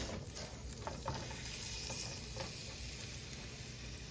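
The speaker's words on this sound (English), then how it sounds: "our pan and our oil is hot. Ooh. So I'm gonna take the breast," Chicken breast fries in hot oil in a pan at medium-high heat, giving a steady, faint, continuous sizzle with light crackling throughout.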